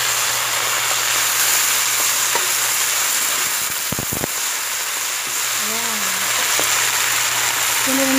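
Sweet potato leaves stir-frying in a pan, a constant close sizzle with a few soft stirring taps, accompanied by faint background tones.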